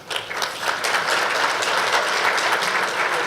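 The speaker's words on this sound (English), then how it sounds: "Why is such a limp applause?" Limp applause at a SADC ministerial meeting, a modest, even patter of clapping from a seated audience, steady and unenthusiastic throughout, with no cheering.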